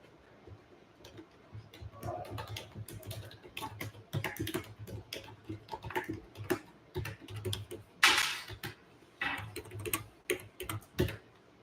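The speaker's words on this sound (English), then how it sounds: "then you're going to start typing the address" Someone types an address on a computer keyboard: irregular bursts of crisp key clicks, close and clear, with brief pauses and one louder clatter midway.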